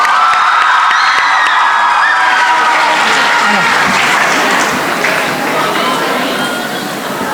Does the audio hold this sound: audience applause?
yes